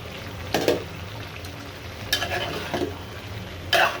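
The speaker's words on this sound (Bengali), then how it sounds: "আবার কলিজাটা নেড়ে চেড়ে দিচ্ছি" Beef liver frying in a pan is stirred a few times, with brief scraping bursts over a low, steady background sizzle.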